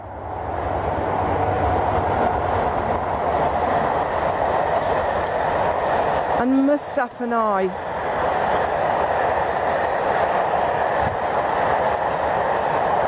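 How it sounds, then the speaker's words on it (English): A train rumbles past steadily close by outdoors during a morning walk, a loud continuous roar that dips briefly as someone speaks over it midway. "let the train go by."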